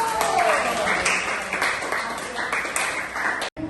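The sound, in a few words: applause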